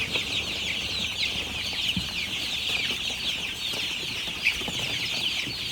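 Andijan black chicks, over a month old, chirping in a pen in Jarqo'rg'on, a dense, continuous chorus of high peeping from many birds with occasional wing flutters.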